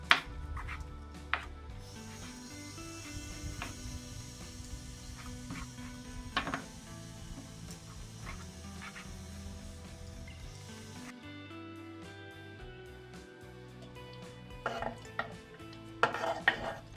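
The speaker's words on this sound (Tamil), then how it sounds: "எல்லா பூவுமே கட் பண்ணி போட்டுட்டேன்." Knife chopping large drumstick flowers on a cutting board in a home kitchen, quiet irregular taps and scrapes with occasional louder knocks, close and soft, no speech.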